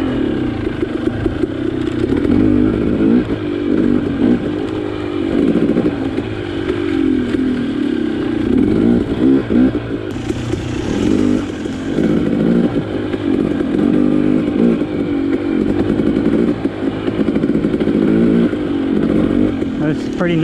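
A dirt bike rides an alpine single-track trail, its engine loud and close, revving up and down continuously with rattling clatter over rough ground.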